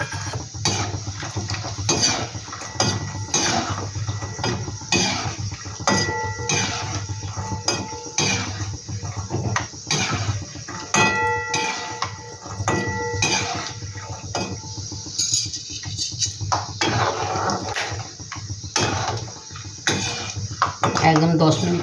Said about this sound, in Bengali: বাদামটা আমি একইভাবে ভেজে নেব।